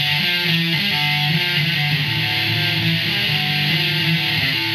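Electric guitar playing a riff at full tempo, a steady driving run of repeated notes with a bright, slightly distorted tone, close and loud with no talking.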